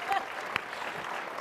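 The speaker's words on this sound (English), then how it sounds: "please clap for that" A conference audience at CPAC breaks into steady applause, a dense patter of many hands at moderate level, with a few sharper individual claps standing out and faint voices mixed in.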